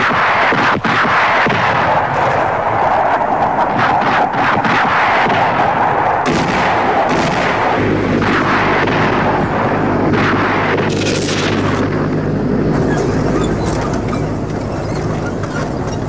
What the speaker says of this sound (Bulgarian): Група съветски самолети МиГ-27 нанасят мощни удари с ракетно и бомбово оръжие по подвижни